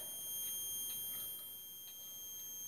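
A fire alarm set off by a heat detector on a Halon suppression system sounds faint, repeated electronic beeps over a steady high-pitched tone and background hiss, with no talking.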